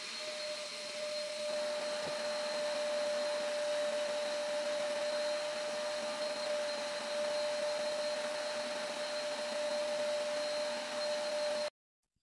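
A vacuum cleaner runs steadily while a room is cleaned, a loud continuous motor whine with a sharp tonal hum that holds unchanged for about twelve seconds before cutting off abruptly.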